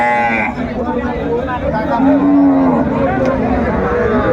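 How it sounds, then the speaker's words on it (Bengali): A dairy cow with her calf at a rural cattle market lows with a drawn-out moo over steady crowd chatter and background voices of the busy livestock market. "আমরা দেখছিলাম বেশ চমৎকার গাভী বাছুর"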